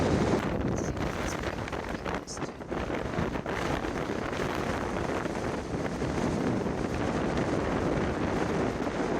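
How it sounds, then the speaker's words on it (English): Heavy, steady wind buffeting the microphone in Iceland, a loud continuous low rumble and roar with no voices throughout. "It's a bit windy, as you can probably hear."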